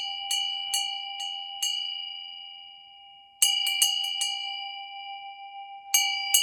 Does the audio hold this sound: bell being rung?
yes